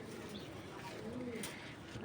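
A Bangladeshi Giribaj pigeon coos softly in a low, rolling murmur against a steady background hum, with a faint hint of voices nearby.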